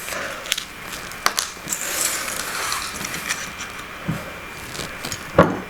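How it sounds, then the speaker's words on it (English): Foil being peeled and torn off the neck of a Cook's California Champagne Extra Dry bottle: close, crinkly crackling and scattered sharp snaps and rips, irregular and up close, with no talking. "So we get that foil off."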